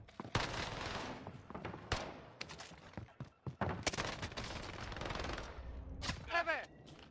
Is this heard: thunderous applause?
no